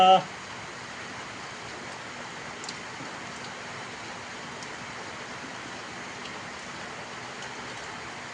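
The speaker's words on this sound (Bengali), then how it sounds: "অসাধারণ বৃষ্টি, মুষলধারে বৃষ্টি চলছে।" Heavy pouring rain, a steady dense hiss that holds evenly throughout with no breaks and only a faint tap or two.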